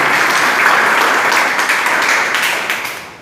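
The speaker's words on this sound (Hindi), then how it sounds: "इसके लिए मैं जबरदस्त ताली से सम्मान दूंगा" An audience at a company business-plan presentation bursts into loud, dense applause, a steady wash of many hands clapping that begins to fade toward the end.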